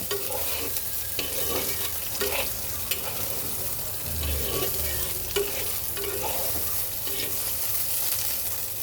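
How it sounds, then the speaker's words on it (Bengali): Eggplant pieces frying in hot oil for a light fish curry, with a steady close sizzle broken by repeated scrapes and stirring knocks of a spatula in the pan. "তো চলো এখন বেগুনটা একটু ভেজে নেই"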